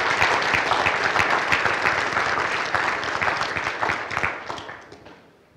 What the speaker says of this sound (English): Ladies and gentlemen, please join me in applauding the next generation of building and design professionals